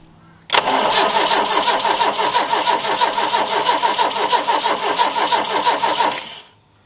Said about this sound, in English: I suppose the next thing would be throw the fuel pump on and see if she starts.